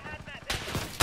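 Sniper rifle fire in a video game: two sharp, loud broadband cracks, one mid-way and one at the end of a second-long burst, with faint game noise and a voice underneath.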